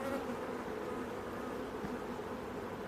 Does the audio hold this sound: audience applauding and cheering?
no